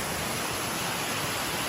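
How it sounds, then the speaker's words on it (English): Even hiss of falling water at Dyson Falls, a flat, continuous wash of noise at moderate level with nothing else standing out and no talking. "I hear a waterfall"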